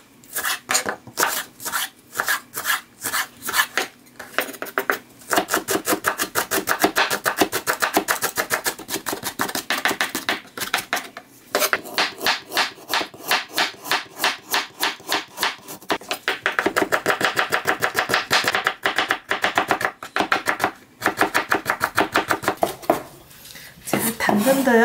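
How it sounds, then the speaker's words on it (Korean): A knife chopping a stalk of green onion on a cutting board, with rapid, steady close-up taps in long runs broken by short pauses. "그리고 대파를 한 뿌리 잘게 썰어주겠습니다."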